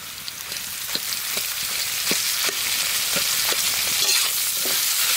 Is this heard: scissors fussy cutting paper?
no